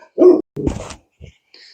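A dog gives a couple of quick close barks with a gruff, growly edge, followed by a softer faint yelp and a thin high trailing sound.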